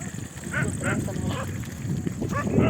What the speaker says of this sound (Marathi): मित्रांनो कुत्रे किती जमा झाले बघितलं बाबा